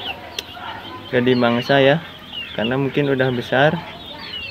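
Chickens on a farm give several clucking calls in two short bursts, fairly close and clear, while someone talks quietly between and around them.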